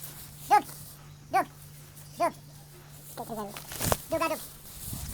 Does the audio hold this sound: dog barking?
yes